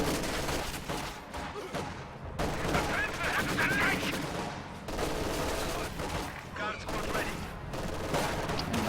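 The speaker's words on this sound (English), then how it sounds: "Rifle grenade goes off." A rifle grenade bursts amid rolling gunfire in a combat video game, with dense overlapping shots and blasts forming a loud, continuous barrage with brief lulls.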